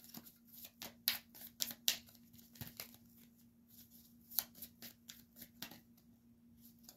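Tarot cards being shuffled by hand, a run of quick papery riffles and flicks in irregular bursts, close and fairly quiet over a faint steady hum.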